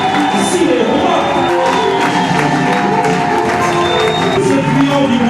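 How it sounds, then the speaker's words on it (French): A church congregation cheers and shouts for joy continuously, a loud, dense roar of voices with whoops rising above it. "Est-ce que Jésus mérite des acclamations, des cris de joie"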